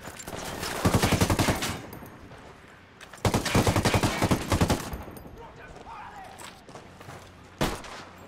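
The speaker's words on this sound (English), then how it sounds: "I'm opening fire." Gunfire in the video game Ghost Recon Wildlands, two long bursts of rapid automatic fire a few seconds apart followed by a single sharp shot near the end, loud and close with faint voices between.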